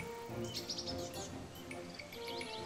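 Chestnut munias chirp and tweet in quick, high bursts, close by, over a soft steady background hum.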